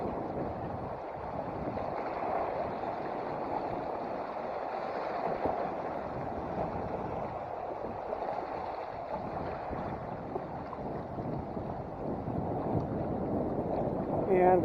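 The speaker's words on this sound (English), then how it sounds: "And we got more wind." Wind blows across a river during a canoe trip, a steady broadband rush with buffeting against the microphone that holds constant and fairly loud throughout, with faint water sounds beneath.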